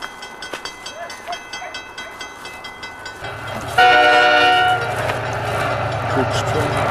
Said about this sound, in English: This is a train about to come through from somewhere.